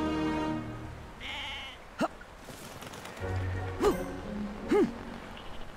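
Sheep in the Dragons Dawn of New Riders game bleat in three short, wavering cries spaced a couple of seconds apart, moderately loud over a low game background with no talk.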